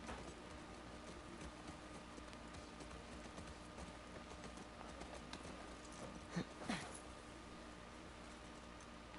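Faint rhythmic clip-clop of horse hooves in the video game The Last of Us Part II, under a steady background hum, with a couple of brief sharper sounds near the end.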